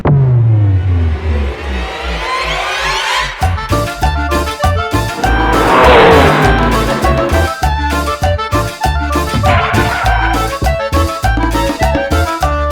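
A Ducati XDiavel motorcycle engine revs hard and climbs through the gears, with loud rhythmic pulsing and rising whine, close and continuous throughout.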